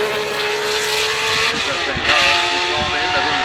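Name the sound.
2021 Ferrari SF21 Formula One car engine at Goodwood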